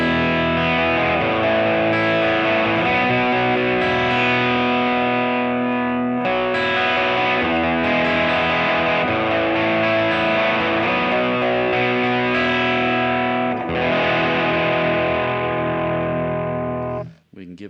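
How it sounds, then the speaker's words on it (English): An electric guitar played through a Line 6 POD 2.0 on its small Tweed Fender amp emulation with overdrive, giving sustained, gritty chords and notes that ring almost continuously, pausing briefly and ending abruptly. "I'm going to step back one more to the small Tweed. Again, this is a Fender emulation."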